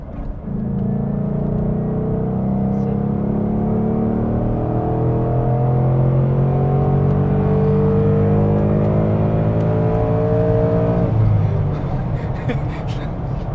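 A Ford Mustang GT with a 5.0-litre V8 accelerates hard through the gears. Its droning engine note rises steadily for several seconds, then drops sharply at a gear change late in the run. The engine stays loud and close throughout.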